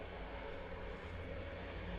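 RAF Airbus A400M aircraft engines running on the ground before takeoff, a steady droning roar heard from a distance, faint and unbroken with no talking.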